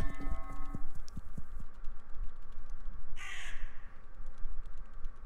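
A bird in the video game Kirigami gives one loud, close caw over a steady backdrop of game music and soft rhythmic clicking.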